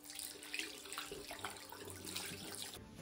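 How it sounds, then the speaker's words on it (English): Tap water runs steadily into a sink while hands are washed, a soft continuous splashing hiss with faint uneven patters. "So I guess I will go wash my hands."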